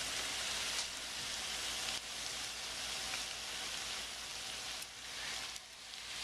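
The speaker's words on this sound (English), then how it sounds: "when you're sauteing the onions and the eggplant and the garlic, you want to keep breaking it down" Onions, eggplant and garlic saute in a pan, giving a steady loud sizzle with faint crackles throughout and a few brief scraping stirs, no talk.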